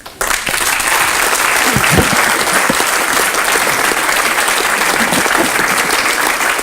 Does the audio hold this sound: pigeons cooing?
no